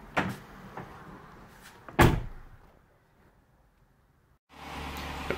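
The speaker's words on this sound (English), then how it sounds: "We're going to close the door and start the engine." A single solid Jeep door thump closes sharply, preceded by light clicks and handling noise, followed by quiet and then the engine's low steady rumble starting up.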